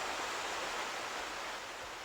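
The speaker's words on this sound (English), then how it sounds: "And then there's this beautiful waterfall in the back." Rushing water from a waterfall behind a mansion in the game Fate of the Empress, a steady broadband roar of falling water that holds even and fairly loud throughout, without any talk.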